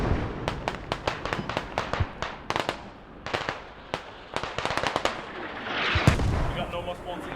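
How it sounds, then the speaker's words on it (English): Mortar shells burst in a Squad match on the Narva map. A rapid run of sharp, punchy blasts rattles off in clusters with short gaps, and a heavier rumble comes near the end. Voices talk underneath. "the mortar hit straight on the radio"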